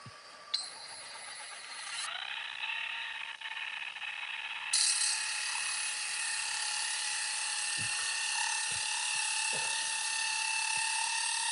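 Trim sanded with a powered tool fitted with a KCX sanding pad, a steady high-pitched whirring hum that runs continuously, with a few faint knocks underneath.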